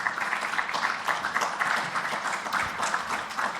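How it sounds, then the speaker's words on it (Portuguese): Audience applause at a sports and mental health talk, an even, continuous wash of clapping from a hall crowd, moderately loud and sustained for the whole few seconds with no talking over it. "uma salva de palmas"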